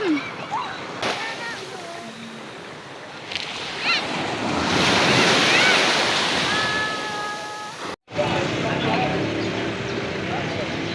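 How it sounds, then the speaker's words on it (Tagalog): Strong ocean waves surging and crashing on a shore, a loud, sustained wash swelling in the middle, with wind buffeting the microphone and people talking and calling over it. "Oh, lakas ang alon."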